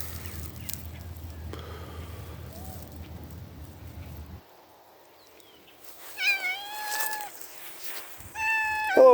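A cat meows twice near the end, drawn-out and wavering, after several seconds of quiet outdoor background with faint bird chirps.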